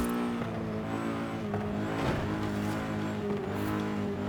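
A tuned car's engine drones steadily in a racing video game, a sustained harmonic hum with small shifts in pitch as the car drives smoothly and quickly, with no one speaking.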